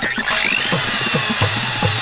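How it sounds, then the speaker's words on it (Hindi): An electric drill machine whirs with a high whine and rising pitch, followed by a series of rapid grinding bursts, loud and close, with no talking. "ये ड्रिल मशीन क्यों ला रहे हो?"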